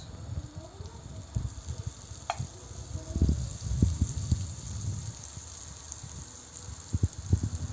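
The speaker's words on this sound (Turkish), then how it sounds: "2 yemek kaşığı tereyağımızı tavamıza koyuyoruz" Two tablespoons of butter sizzle in a frying pan, a quiet, uneven popping and crackle with a soft steady hiss underneath and a few sharper spits near the end.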